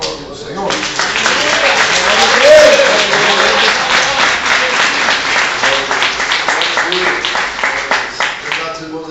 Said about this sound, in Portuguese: Vamos receber o servo de Deus. Aplaudindo o Senhor.